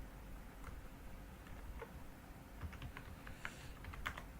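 Code typed on a computer keyboard for a Java project, soft quiet key taps coming in scattered bursts against a faint steady room hum, no talking.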